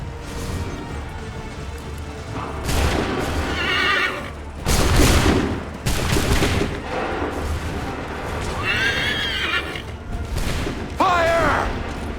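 Musket volleys boom in Assassin's Creed III amid a battlefield din, with several heavy blasts spread across the scene, horses neighing loudly between them and soldiers shouting in the background.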